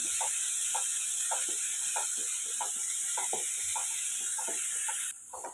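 Chopped large onion sautéing in a pan for prawn gravy gives a steady bright sizzle, with a regular ticking of spoon taps running through it.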